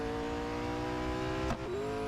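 A race car engine hums steadily at a constant pitch in the Real Racing 3 mobile game. A brief shift or bump comes near the end before the tone settles slightly lower.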